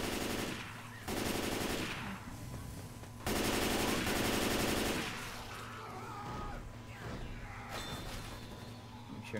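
An M-16 rifle fires in a video game, with loud sustained bursts of rapid automatic fire broken by short pauses, then fading into lighter scattered shots and clanks.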